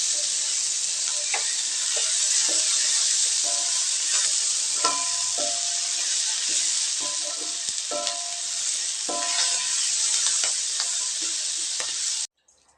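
Ingredients for a tamarind chutney sauté in a hot pan after the flame is off, a continuous soft sizzle and hiss punctuated by frequent spatula scrapes and taps, close by, ending abruptly, with no voices.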